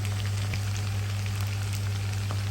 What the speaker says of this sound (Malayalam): ചിക്കനെല്ലാം നല്ല ഫ്രൈ ആയിട്ടുണ്ട്